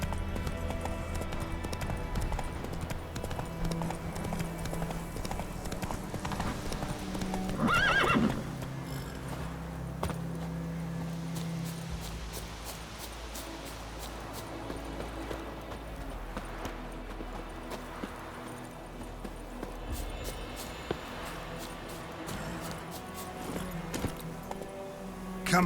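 Roach, a horse in The Witcher 3, gallops with continuous rapid hoofbeats and lets out a loud neigh early on, layered over game music and ambience throughout.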